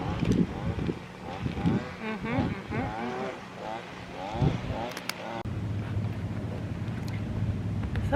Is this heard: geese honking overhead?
no